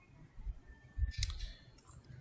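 Mouse clicks on an on-screen button in a Windows programming environment, a few soft, close clicks against quiet room background.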